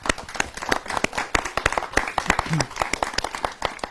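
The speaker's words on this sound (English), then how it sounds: "I think we should all give them a round of applause" An audience claps for election candidates at a question-time event, fairly sparse individual hand claps with distinct sharp strikes, moderately close, with faint voices murmuring underneath.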